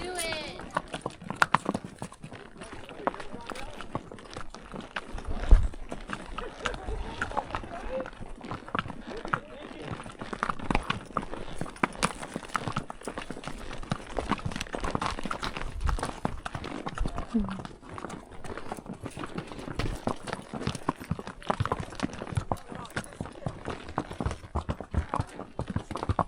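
Mule hooves clopping steadily down a rocky trail in Bryce Canyon, close, uneven steps with scrapes over outdoor wind noise.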